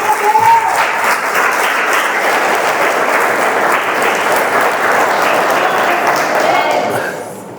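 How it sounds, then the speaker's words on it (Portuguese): A church congregation breaks into loud, sustained applause that fills the space evenly from start to finish, with a few voices faintly rising beneath the dense clapping before it tapers at the very end. "Pode aplaudir Jesus por isso?"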